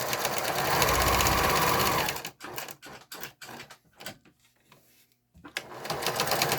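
A sewing machine stitches a label onto a small coin purse made from recycled denim, running in a steady whir for about two seconds, then giving a series of short separate stitch bursts and finishing with another steady run.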